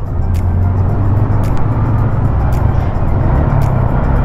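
Heavy road traffic heard from a motorcycle, a loud, continuous close-up drone of car and engine noise with low rumbling motors and passing vehicles throughout.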